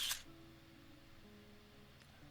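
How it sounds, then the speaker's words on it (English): A Fujifilm X-H1 camera's shutter release gives a brief, crisp click at the start, close and fairly loud, then only faint room hum follows. "what I do now is press the shutter release"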